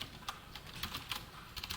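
Quiet, close clatter of keys on a computer keyboard as Java code is typed, an uneven run of soft taps with short pauses between bursts.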